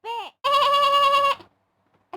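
A mini sheep bleats twice, first a short call and then a long wavering one, close and loud against silence.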